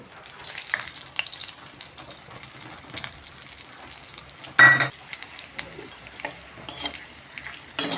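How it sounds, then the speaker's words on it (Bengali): Dried chillies and whole garam masala spluttering in hot oil mixed with ghee, soft crackling sizzle with scattered pops and one sharp louder burst, plus occasional stirring clinks. "তেলের সাথে ঘিটা মিশে গেছে, শুকনো লঙ্কা আর গোটা গরম মশলা ফোড়ন দিয়ে দিচ্ছে"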